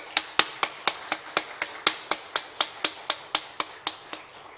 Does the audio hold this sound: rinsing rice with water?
no